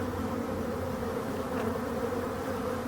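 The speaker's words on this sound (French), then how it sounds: "On voit très bien là les abeilles juste devant" Honeybees fly in front of a busy hive in an apiary in Brittany, making a dense, steady, close buzzing drone that holds evenly throughout without voices.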